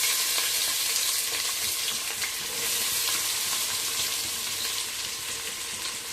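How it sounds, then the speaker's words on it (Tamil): Fennel seeds, cardamom and bay leaf fry in hot oil in a pan, giving a steady, close, bright sizzle that continues without a break. "சோம்பு, ஏலக்காய், பிரிஞ்சி இலை எல்லாத்தையும் போட்டுட்டேன். நல்லா பொரியுது."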